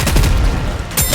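Weapons fire rapidly in the mobile shooter Goddess of Victory: Nikke, a loud, close rattle of overlapping shots and booms with a brief lull near the end before it picks up again.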